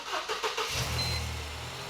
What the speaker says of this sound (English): Would you mind jumping in and starting the car up for me